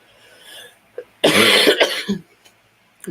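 A woman recovering from flu coughs in a harsh, close burst of two or three hacks with throat clearing, set between quiet breathing.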